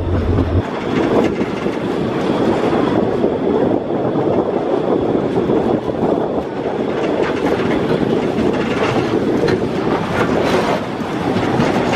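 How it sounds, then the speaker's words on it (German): The Weißeritztalbahn narrow-gauge train rumbles steadily and loudly into a station just past a reservoir dam, a continuous rolling clatter with wind buffeting, no voices. "Nach wenigen Minuten Fahrzeit passiert der Zug die Staumauer der Talsperre und fährt kurze Zeit später in den"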